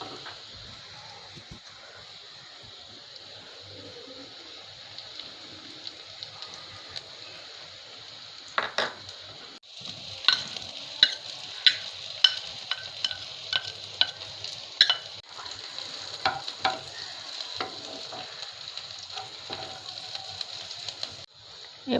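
Crushed garlic and chilli hit hot oil with fried onions, a quiet steady sizzle that gets louder partway through, with repeated sharp clicks of a spatula stirring in the pan.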